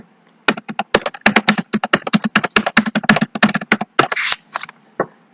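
Rapid keystrokes on a computer keyboard typing out a short line of code text, close and fairly loud, in quick irregular bursts with brief pauses, ending in a few slower isolated taps.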